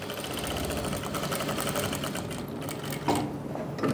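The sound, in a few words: sewing machine stitching near buckram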